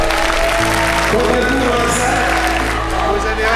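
An audience applauds at an awards evening in the Grand Rex cinema in Paris, dense clapping filling the hall under a steady hum while a voice speaks briefly over it.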